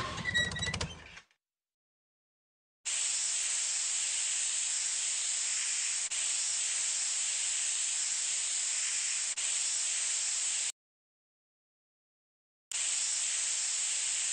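Steady bright hissing spray from a hose in a video game, water jetting onto a train engine, runs in two long bursts separated by silence, after a brief burst of other sound at the start.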